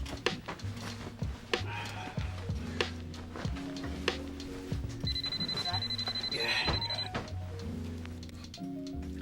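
A telephone bell rings in a sustained trill in a stage play set in a home, heard among clatter and background talk.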